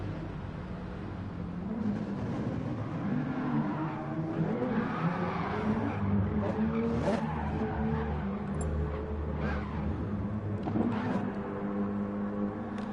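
GT racing cars in Gran Turismo Sport at the Nürburgring GP circuit, engines revving and tires squealing through drifts, with several sharp screeches over a continuous loud engine drone.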